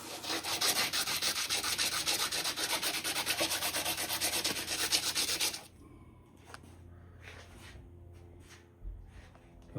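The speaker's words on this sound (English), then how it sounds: "now I'm just going to even the ends up on the sander" A sander grinds down the ends of metal governor arms for a hit-and-miss engine, giving a loud, steady rasping hiss for several seconds before stopping, then quieter scattered handling noises follow.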